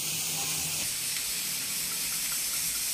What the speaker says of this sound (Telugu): ఇక్కడ మనకి బ్రెయిన్స్ బాయిల్ అవుతున్నాయండి